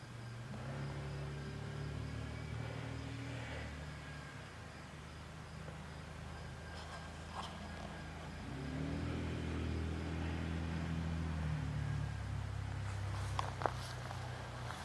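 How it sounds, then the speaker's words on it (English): A vehicle rumbles past at night in a dark place, its low engine noise swelling midway and then easing off over a constant background hum. "that's a vehicle going by"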